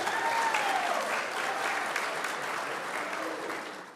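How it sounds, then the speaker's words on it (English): A live panel audience at a Supernatural fan event applauds themselves, a sustained wash of many hands clapping at steady loudness that thins slightly toward the end. "So one more time, please give yourselves a round of applause."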